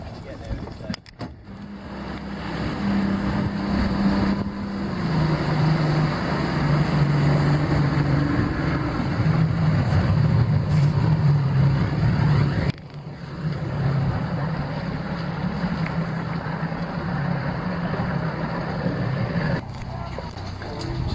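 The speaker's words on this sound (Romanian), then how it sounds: "E prima dată când mergem cu barcă din asta de viteză, fără coviltier" An open speedboat without a canopy runs across a lake in the Philippines: a steady, loud engine drone and wind rush under people talking, with a brief dip partway through before the motor noise carries on.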